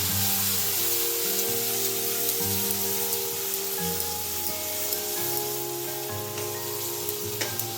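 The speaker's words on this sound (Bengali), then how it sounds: "এবারে পেঁয়াজ বাটা দিচ্ছি" Four large onions' worth of onion paste fries in hot oil in a pan for coconut prawns, giving a steady, dense sizzle with crackles throughout, close and continuous.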